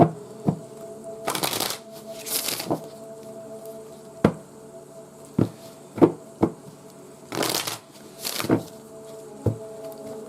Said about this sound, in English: I'm shuffling this deck a lot